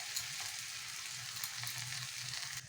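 Onions and spices, including cumin, turmeric and chilli powder, sizzling steadily in a pan for a corn and spinach dish, a continuous close frying hiss with faint stirring and no talking.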